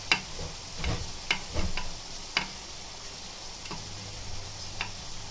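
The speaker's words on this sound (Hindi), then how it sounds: "अदरक लहसुन को अच्छे से भुनेंगे उसके अंदर, कीमे के अंदर।" Ginger and garlic fry with minced keema in a pan, a soft steady sizzle punctuated by sharp ticks and spatula scrapes at irregular intervals, close by and without talk.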